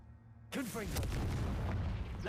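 A Confringo blasting spell goes off in Hogwarts Legacy with a sudden loud burst and booming blast after a quiet lead-in, then a rumbling tail, with a voice talking over it.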